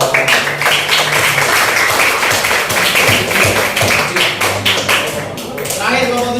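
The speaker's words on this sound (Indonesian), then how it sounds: "kita beri tepuk tangan buat kelompok" Sixth-grade students in an Indonesian classroom clap for a group of classmates during a lesson. The rapid, close clapping is continuous and fairly loud, with a few sharper taps standing out near the end.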